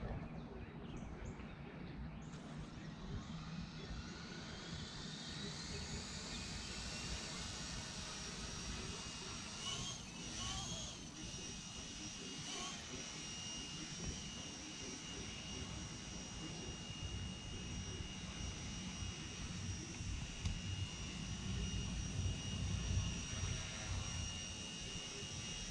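The motors of an Eachine E160 RC helicopter whine steadily at a moderate distance, a faint continuous buzz carrying on throughout.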